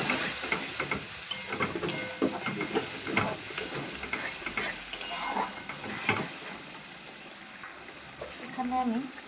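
Water goes into fried spices in a pan while cooking a vegetarian flat bean (sim) curry, setting off a loud, steady sizzle and hiss with scraping stirs, and a voice speaks over it at times.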